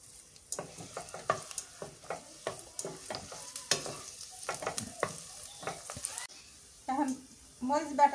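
Chopped onion frying in hot oil for a coral fish curry, with irregular close crackles and spatter bursts over a quiet background, and a voice briefly heard near the end.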